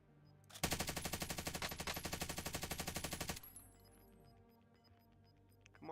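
Rapid automatic gunfire in Call of Duty blasts loud and sustained for about three seconds, a dense continuous burst that cuts off abruptly, followed by quieter game sounds and faint clinks.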